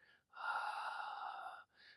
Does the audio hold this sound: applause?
no